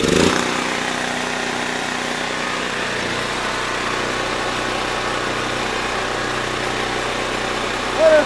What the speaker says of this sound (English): if you turn the gas on, turn the choke on, I'm gonna hit the key